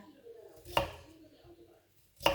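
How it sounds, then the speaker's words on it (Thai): A knife chops through boiled potatoes for a potato salad on a cutting board, two sharp, close thuds about a second and a half apart with quiet room sound between them. "แล้วเพื่อนก็จะหั่นอย่างนี้เนาะ"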